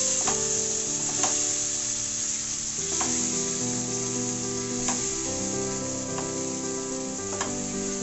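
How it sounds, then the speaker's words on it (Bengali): Chicken with grapes sautéing in spiced masala with a splash of water hisses steadily in the pan, with occasional utensil knocks and a tonal hum running underneath. "ততক্ষণ ভালোভাবে কষাবো।"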